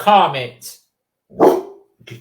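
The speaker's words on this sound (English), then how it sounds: "You can hear a dog barking outside." A dog barks outside in a few short, sharp bursts separated by pauses, mixed with a person speaking nearby indoors.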